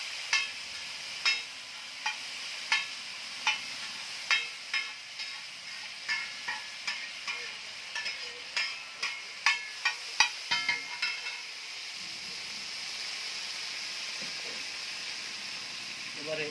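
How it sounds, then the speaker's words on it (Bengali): Tomato stirred into fish masala frying in a pan: a steady close sizzle with a run of regular scraping and clinking strokes of a spoon against the pan, later settling into continuous frying hiss. "টমেটোটা দিয়ে এবার একটু ভালো করে মিক্স করব।"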